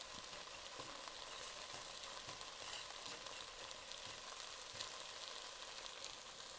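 Coconut roasts in a pan over a low flame, giving a faint, even, continuous hiss with very light crackle throughout and no talking.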